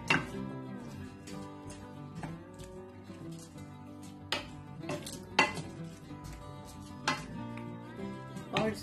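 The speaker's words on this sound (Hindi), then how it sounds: "3 अदद चॉप टमाटर, इन तमाम चीजों को मैं मिक्स करूंगी" Chopped tomatoes, ginger and garlic being mixed for an Afghani chicken karahi, with repeated clinks and scrapes of a utensil against a metal pot, some sharp strikes standing out, close and with no talk.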